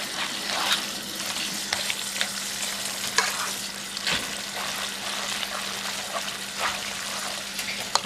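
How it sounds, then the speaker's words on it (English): Noodles are stirred through Alfredo sauce made from scratch, giving wet, squelching mixing sounds and clicks of a utensil against the pot in irregular bursts, close and moderately loud, with no one talking. "I just mix it in with my noodles"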